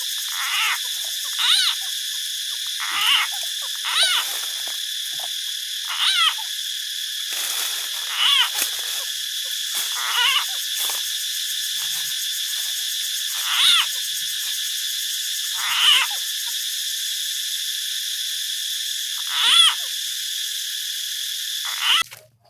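Recorded bird calls played back through a loudspeaker at dusk in rural Thailand to lure birds, a repeated hooting or croaking phrase sounding roughly every one to two seconds over a steady high insect-like drone, with no talking.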